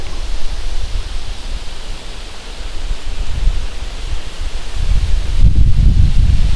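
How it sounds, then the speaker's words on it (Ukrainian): Steady broadband rustle of leaves stirred by wind, continuous and fairly loud, swelling stronger toward the end with no voices. "як вітер гуляє листями тополь."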